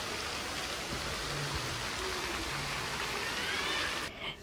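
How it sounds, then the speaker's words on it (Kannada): A sunshower in Mysore pours down in a continuous shower of raindrops pattering on surfaces, steady and close before cutting off at the very end. "ಇವತ್ತು ಬಿಸಿಲು ಮಳೆ ಬರ್ತಾಯಿತ್ತು ನೋಡಿ"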